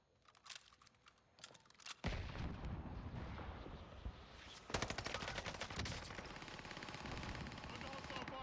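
Sustained bursts of hostile machine-gun fire and heavy artillery rattle through a Call of Duty: Modern Warfare battle, dense and loud after a few scattered early shots, with a sharp surge midway.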